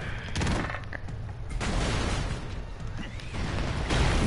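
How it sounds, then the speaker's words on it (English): Explosions and gunfire in an alien shooter video game, a loud, dense barrage of blasts and shots that keeps going throughout. "Oh my god, everything's blowing up."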